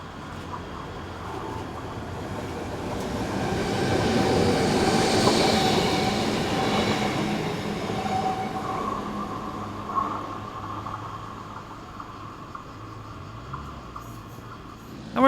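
A passenger train from Graz to Ventimiglia rolls through a station, its rumble swelling to a peak and then fading, with brief wheel squeals as it moves off; no voices.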